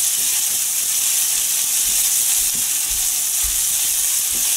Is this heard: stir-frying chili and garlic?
yes